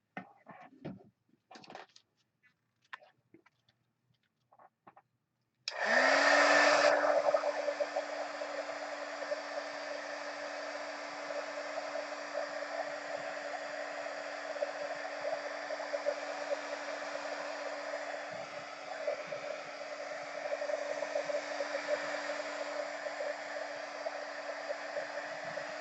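A heat tool switches on abruptly after a few soft rustles and blows with a steady, loud whoosh onto a flower made from a baby wipe, running unbroken for about twenty seconds.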